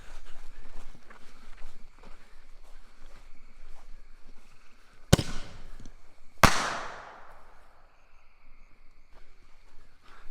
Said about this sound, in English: we're going to light these little mini artillery shells